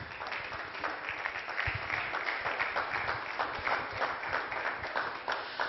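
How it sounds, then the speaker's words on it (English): An audience at a Yamaha training session applauds a speaker, a steady wash of many hands clapping that holds evenly throughout with no talking over it. "Please, a round of applause for him"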